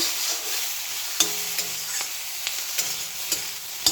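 Spices with home-made turmeric being stirred and fried in a pan, a steady bright sizzle with several sharp scrapes of the spatula against the pan at irregular intervals.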